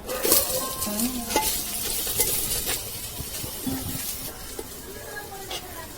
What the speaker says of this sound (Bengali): আলুগুলো দিয়ে দিচ্ছি এটা ভেজে নেবো পেঁয়াজ টাজগুলো ভেজে নেবো